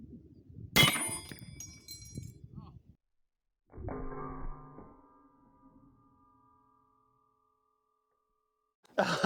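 A .30-06 rifle clip ejects with a sharp metallic clang, followed seconds later by a lighter ringing ping that slowly fades, with brief handling noise around it and no talking.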